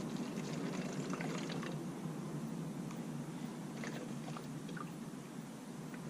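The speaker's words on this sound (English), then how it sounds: "So I need to put about half the bottle in." Hydrogen peroxide pours from a bottle in a steady, soft liquid trickle that runs for several seconds, quiet and close, with no voices.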